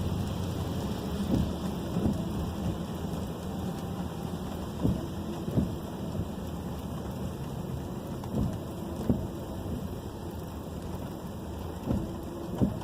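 Steady rain drums on a Volkswagen Tiguan while driving on a wet road, with a constant hiss, with occasional soft thuds and low rumbles mixed in throughout.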